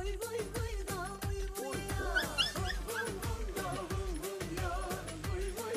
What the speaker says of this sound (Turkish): Anam köpeklere bak.